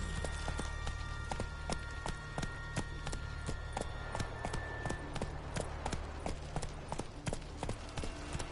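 Geralt's horse Roach in The Witcher 3 trots steadily, a brisk, even clip-clop of hooves, close and clear over a low ambient hum, with no talk.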